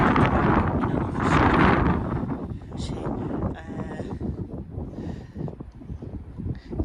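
Gusty wind on a hillside garden buffeting the microphone in loud rushing bursts that rise and fall, with some faint voices and scattered knocks beneath.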